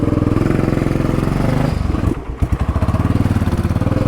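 A Royal Enfield Bullet 500 single-cylinder motorcycle thumps loudly up close with a steady, even beat, briefly dipping around a gear change before the pulsing rhythm resumes as it rides off.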